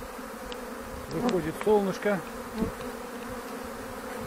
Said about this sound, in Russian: Вот так работает пчела.